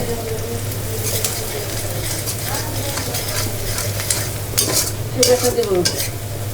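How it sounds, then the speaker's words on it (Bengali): Duck meat cooking in oil with ground coriander, turmeric, chili powder and ginger-garlic paste, stirred steadily in a pan with continuous sizzling and scraping, close and moderately loud, with faint voices in the background. "এখন হলো হাঁসের মাংস রান্না করা হচ্ছে"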